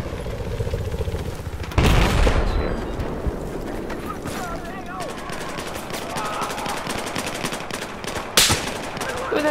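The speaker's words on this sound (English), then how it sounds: "Who the heck is shooting me?" Heavy gunfire in the Battlefield 4 video game, sustained automatic bursts with loud booming hits and explosions, constant and dense throughout, with players talking over it.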